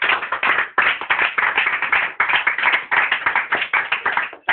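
A church congregation applauds, a dense, continuous burst of many hands clapping close by, with the rhythm rising and falling in waves throughout.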